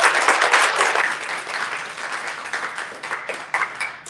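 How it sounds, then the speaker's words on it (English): An audience claps for the cast and crew of the Dramashop stage production Everybody at a theatre curtain call: strong clapping that starts at full strength, then thins and eases into scattered claps with a brief swell near the end. "please join me in a round of applause for the cast and crew of Everybody"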